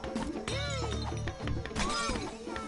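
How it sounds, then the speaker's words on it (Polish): Clay jugs shattering in a video game minigame, a run of bright breaking crashes and clinks layered over steady game music, with a short voice briefly audible. "Zdobywaj punkty, rozbijając dzbany."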